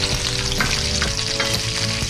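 Garlic fries in melted butter in a pan for garlic buttered shrimp, giving a continuous close sizzle with stirring scrapes throughout and nobody speaking.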